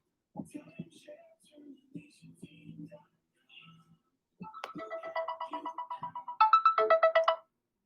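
A phone plays its ringtone for an incoming call, a repeating electronic pattern that grows louder and higher toward the end, after some quiet talk.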